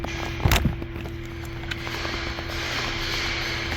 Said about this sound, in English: we have to remove the door lock here. For this, you're going to push this down.